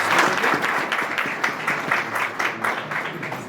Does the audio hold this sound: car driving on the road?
no